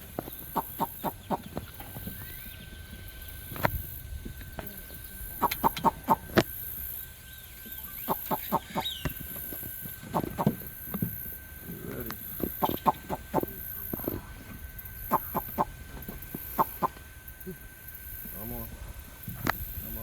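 A chicken clucking in irregular bursts near a crocodile enclosure in Angleton, Texas, with sharp clucks and scratchy calls clustered through the stretch while someone talks intermittently.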